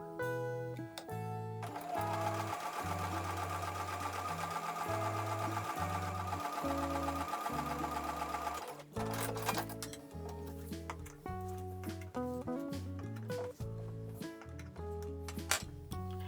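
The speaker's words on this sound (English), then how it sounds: "I'm going to take these over to the sewing machine and I'm going to sew on top of both those lines" A sewing machine stitching quilt block pieces, running in steady bursts of rapid mechanical ticking with brief pauses between runs and a few clicks, close and clear with no talk.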